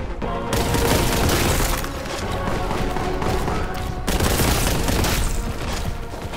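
A loud, continuous barrage of shotgun blasts and booming gunfire in Warhammer 40,000: Boltgun, dense and relentless with only a brief break.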